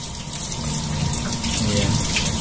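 Tap water runs steadily over frozen shrimp in a kitchen sink, a continuous close, loud rushing gush that lasts throughout with no pauses.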